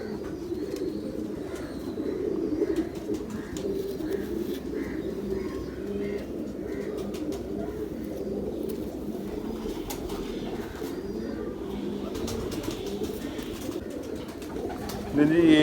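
Ferozpuri pigeons cooing in a loft, soft repeated low coos layered throughout, with a person talking nearby and a brief rustle near the end.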